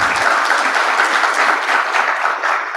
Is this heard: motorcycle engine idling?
no